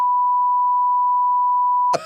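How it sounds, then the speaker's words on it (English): A single long, steady censor beep, a loud pure tone held for about two seconds before cutting off into a brief burst of noise. "Just do one massive long beep."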